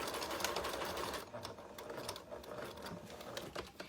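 Home sewing machine stitching fabric face masks, a rapid, rhythmic mechanical clatter of needle strokes, close and continuous, easing slightly partway through.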